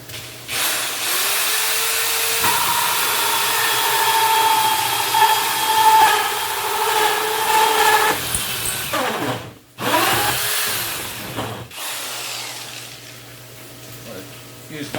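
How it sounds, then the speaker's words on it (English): A power drill bores into the center of the grooves of a Tower Garden part, giving a steady, close, loud whining drone with shifting pitch and a brief break partway through. "I'm just going to put my drill right dead center of the grooves"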